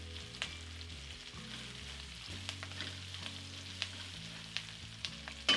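Onions sauté in a pan with a soft, steady sizzle, punctuated by light scrapes and taps of stirring, fairly quiet and with no talk.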